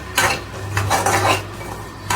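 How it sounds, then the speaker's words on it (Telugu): A utensil stirs and mixes semolina roasting in ghee in a pan, scraping in quick irregular strokes against the metal over a faint low hum, close and fairly loud. "మంచిగా మిక్స్ చేసుకోవాలి."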